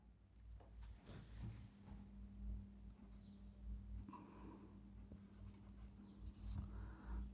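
Pen scratching across paper as someone writes by hand during a Hindi grammar lesson, soft irregular strokes with a low steady hum beneath, faint and close.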